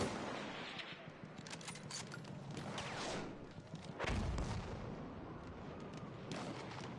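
Battlefield 1 gunfire roars in a dense, continuous barrage of rifle and machine-gun shots mixed with heavy booming blasts, loud and unbroken for several seconds.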